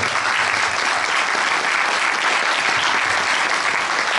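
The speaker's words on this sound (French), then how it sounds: "Donc on applaudit Roxane et je lui passe la parole." Sustained, dense applause from a crowd at a political meeting in Beauvais, France, steady and loud throughout with many hands clapping at once.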